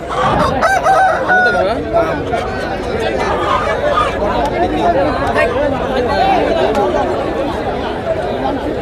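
Country chickens and young chicks at a busy weekly village market in Vizianagaram district, with fowl clucking and a rooster crowing among them, all under constant crowd chatter and nearby voices.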